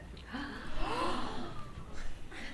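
A class of students gasping in unison on a played-back recording, a breathy collective intake rising and fading over a couple of seconds with a little murmuring mixed in.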